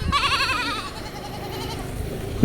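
A goat bleats in short wavering cries near the start, fairly close and clear over quiet outdoor background at a hostel in Hampi.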